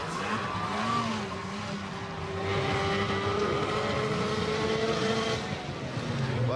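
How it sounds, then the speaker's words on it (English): A snowmobile engine stuck at full throttle after a crash at an X Games event, roaring steadily with a sustained high-revving drone under a noisy crowd. "throttle locked open there on Jackson's sled when he hit the deck"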